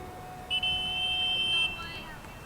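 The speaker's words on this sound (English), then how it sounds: "And there's the buzzer for the end of the first half." Stadium buzzer at a girls' varsity high school soccer game sounds one sustained electronic tone for about a second over faint background noise.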